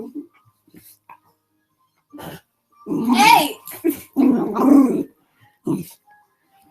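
A dog makes strange vocal noises at close range in a quiet room, a series of moaning, grumbling howls and whimpers in several bursts, with a person briefly calling out between them.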